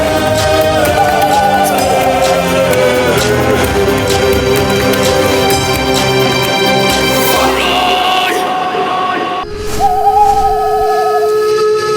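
An owl hoots amid a loud, dense dramatic score in a Hindi mythological drama about Ganesha, its wavering call rising clearly near the end as the music drops away briefly.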